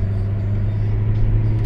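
A Hyundai i20 engine hums at steady low revs close by, a constant droning rumble with no clear rise in pitch over the short stretch.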